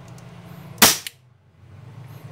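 A single sharp, loud pop of a Jericho 941 airsoft pistol firing a blank without a BB, followed by a quick fainter crack, over a low steady background hum.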